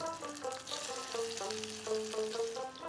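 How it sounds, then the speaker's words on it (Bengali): Potatoes fry in a few tablespoons of oil in a nonstick pan on an induction cooktop, a soft continuous sizzle beneath clear sustained musical tones that carry across the whole stretch. "এবার আলুগুলো ছেড়ে লালচে করে ভেজে নেব"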